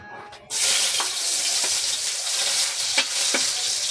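Garlic hits a hot pan and starts sautéing with a sudden loud sizzle that stays steady, broken by a few faint scraping stirs, close and alone without talk.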